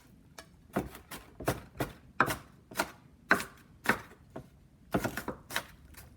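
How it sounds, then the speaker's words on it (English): A knife chops onions on a cutting board in quick, uneven bursts of sharp, close taps, some spaced apart and others clustered, with no talking. "I have to cut my onions as fast as I possibly can because I cry when I'm chopping these"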